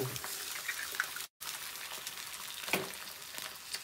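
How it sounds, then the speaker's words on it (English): Eggs frying in a hot pan give a steady, soft sizzle with faint crackles, briefly cut out for a moment near the middle, with no clear talk over it. "Hear those eggs cooking."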